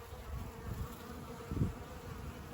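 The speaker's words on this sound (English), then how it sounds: "So I'm going to go up here and take a look at the bees in the log beehive." Bees buzzing around a log beehive outdoors on a warm, windy day, a steady close insect hum with a brief louder swell as one passes near, over faint wind noise.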